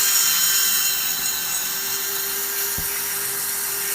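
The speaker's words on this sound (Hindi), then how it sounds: "यहां पे 6 mm का ड्रिल बिट है जिसको हम इस मशीन में" A cordless drill with a 6 mm bit bores into wood, producing a steady high whine with one brief knock partway through, close and without speech.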